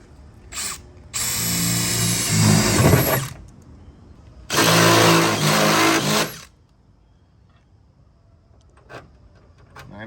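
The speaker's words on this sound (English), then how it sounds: "drill out the other 3" Power drill boring holes in the body of an overland expedition truck, two long loud bursts of whining drilling separated by a pause, then quiet with a few faint knocks.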